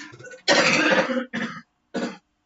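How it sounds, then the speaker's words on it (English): A fit of coughing up close: one long, rough hacking cough followed by two shorter ones, with brief pauses between. "Hang on, I've got a cough again"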